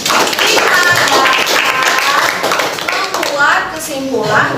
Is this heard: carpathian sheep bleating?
no